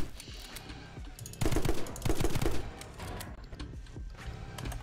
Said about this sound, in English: when I'm shooting non-stop as fast as I can